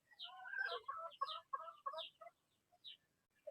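Several chickens cluck in short bursts as they peck at pieces of red-fleshed pomelo, close by and fairly loud, with the calls thinning out toward the end.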